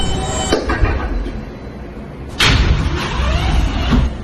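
A local NYC subway J train rumbles along the track with a deep low roar, clanks and a sudden bang as it jolts. The wheels grind and faintly squeal as it runs, with no voices heard.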